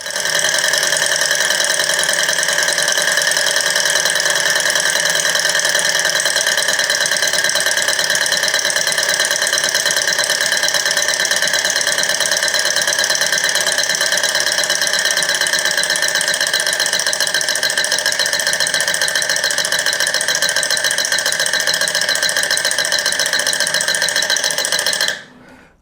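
A small Stirling engine heated by a wick flame runs continuously with a steady, loud mechanical whir and fine rapid ticking, close up and unchanging for the whole stretch before it cuts off abruptly at the end.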